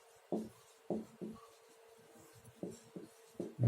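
Chalk or marker scratching on a board during a class 11 chemistry lecture, several short separated strokes in an irregular rhythm, close and fairly quiet in a still room.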